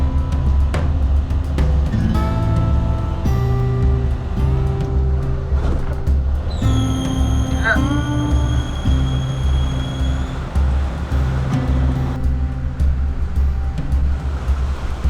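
A sailboat motoring under engine power across a calm Mediterranean sea off Greece gives a steady, loud engine drone with rumbling low tones and shifting pitched whines, joined by water rush and occasional creaks; no talk.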